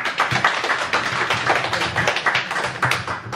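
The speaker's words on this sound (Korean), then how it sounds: "일단 뜨거운 박수로 환영합니다" Warm welcoming applause at a poetry book talk and signing event, a lively crowd clapping in quick, uneven bursts that stay loud and close for a few seconds with no talking over it.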